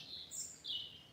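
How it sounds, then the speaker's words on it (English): Blackbird alarm calls ring out in woodland, two or three thin, high, drawn-out notes heard at a distance over quiet background. "I can hear alarm calls of blackbirds up there"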